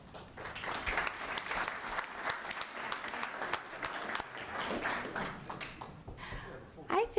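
At a city council meeting in Meridian, people in the chamber applaud steadily for several seconds, a soft, fairly distant patter that thins out before a voice comes in at the end.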